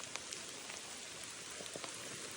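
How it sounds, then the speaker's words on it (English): Steady rain falls on an outdoor autumn trail, a dense even hiss of drops with a few sharper nearby patters, fairly quiet and with no voices. "the sound of rain is copyrighted"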